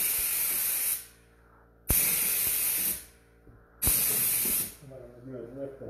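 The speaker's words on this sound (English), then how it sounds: "So Tanya, this is a Husky sprayer." A Husky paint sprayer lays clear coat over patina paint in three close, loud bursts of steady hissing spray, each lasting about a second, separated by short quiet pauses.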